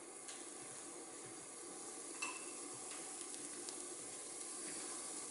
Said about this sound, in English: maybe you can hear that actually starting to saute a little bit